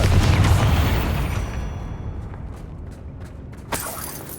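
A Confringo blasting spell goes off in Hogwarts Legacy with a loud, close explosion that booms at the start and then fades into rumbling debris. A sharp pop cuts in near the end. No one talks.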